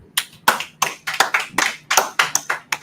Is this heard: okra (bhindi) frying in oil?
no